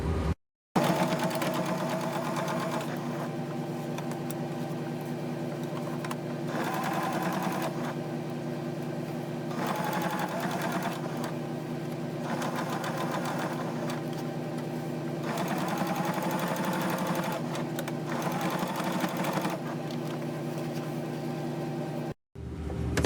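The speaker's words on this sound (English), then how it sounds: "and I'm about to sew this up." A sewing machine stitching an old sheet into a fabric baby gate runs in a continuous loud whirring drone for about twenty seconds, with slight changes in speed, stopping briefly at the start and near the end.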